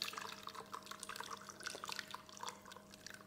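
Homemade lemon syrup trickling through a fine sieve, a steady close run of drips and small splashes of liquid continuing for a few seconds with no voices.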